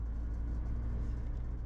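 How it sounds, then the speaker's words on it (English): A car rolls by in morning city traffic, a low steady engine rumble and road noise heard from inside another vehicle, with no talk. "Car in my right lane."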